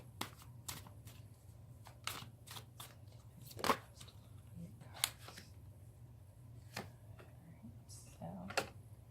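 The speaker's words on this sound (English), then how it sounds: "one more shuffle" Tarot cards are shuffled in a series of quick, crisp riffling snaps and flicks, close and quiet over a low steady hum.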